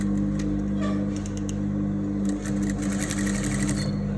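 Sewing machine stitching along a fabric seam over bias binding, a close, loud, steady mechanical whir with rapid rhythmic needle clatter that briefly slows mid-run, no voices.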